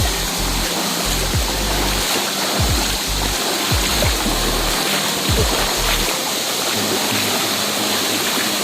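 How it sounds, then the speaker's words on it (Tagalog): Tagong Falls waterfall near San Jose, Occidental Mindoro, a loud continuous close roar of rushing, splashing water with low rumbling thumps underneath, steady for the whole stretch. "ang falls ng Tagong Falls dito guys sa bayan ng Sunusi"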